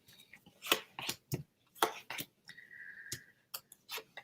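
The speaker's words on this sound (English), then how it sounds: "I can shuffle these cards like a million times." A deck of tarot-style cards being shuffled by hand gives crisp, irregular snapping and riffling clicks in short bursts, close and fairly quiet, with a soft tonal hum partway through.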